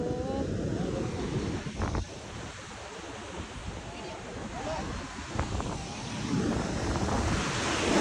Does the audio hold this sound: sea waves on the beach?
yes